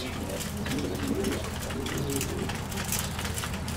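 Racing pigeons cooing at a loft during a training session, steady low soft coos repeating over continuous background noise with faint voices nearby.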